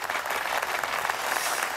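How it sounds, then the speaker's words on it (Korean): A church audience bursts into brief, dense applause at a special reading event, loud and steady clapping with no voices. "네, 박수 한번 하겠습니다."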